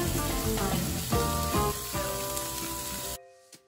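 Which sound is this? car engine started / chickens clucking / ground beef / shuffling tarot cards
ground beef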